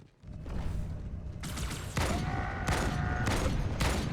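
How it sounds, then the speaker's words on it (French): Sniper rifle fire in the video game Halo 2 gives several loud, sharp broadband shots spaced about a second apart, each with a lingering mechanical tail over steady game ambience. "Déjà je vais lui mettre les 4 balles de sniper."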